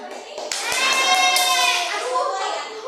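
Fifth-grade schoolchildren in a classroom clap a short rhythmic cheer, a handful of sharp claps near the start followed by the children's voices chanting together loudly and close.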